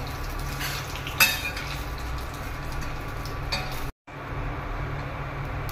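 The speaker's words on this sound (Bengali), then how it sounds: "এবার গরম মশলা আর শুকনো লঙ্কা ফোড়ন দিলাম।" Garam masala and dried chillies crackle in a mix of oil and ghee in a kadai, a continuous close sizzle with a sharp clink near the start and a brief gap near the end, with no speech.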